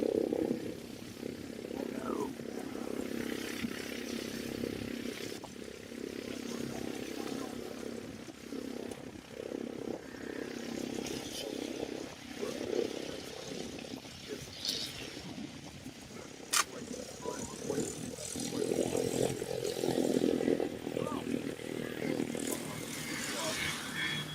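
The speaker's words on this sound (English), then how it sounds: "One of these newer light sports, super fast on low horsepower, high miles per gallon." A newer light sport aircraft arrives at Oshkosh, and its engine drones steadily at a distance beneath an ongoing voice, with crowd and field ambience throughout.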